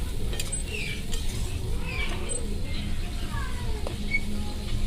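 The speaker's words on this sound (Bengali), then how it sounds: "এবার ওটাকে ভালো করে নেড়ে নিচ্ছি।" Meat is stirred in a pan with ground garlic, a steady low sizzle with soft scraping strokes throughout, moderately close and even in level.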